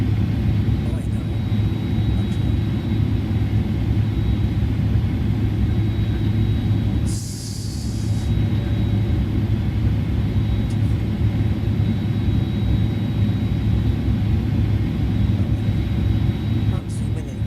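Twin engines of a Fenix A320 airliner in Microsoft Flight Simulator drone as a steady, loud low rumble with a constant high whine, broken briefly by a short burst of hiss midway.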